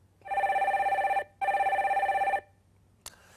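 A telephone rings during a live call-in segment of a Korean stock-advice broadcast as a caller is connected: two long, trilling electronic ring bursts with a short gap, followed by a brief click, close and clear with no talk.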